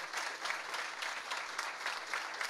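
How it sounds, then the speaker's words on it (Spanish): Audience applause at the inauguration of a children's shelter, a steady dense clapping from a crowd that carries on evenly and fairly loud, with no voices over it. "Pido a todos ustedes un caluroso aplauso de agradecimiento a nuestras"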